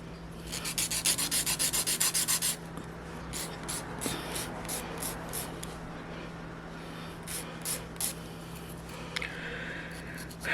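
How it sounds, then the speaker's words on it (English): Nail file shaping polygel nails, a steady rapid rasping stroke in the first couple of seconds, then fainter intermittent scrapes close by with no talk. "And let's begin filing this again into shape."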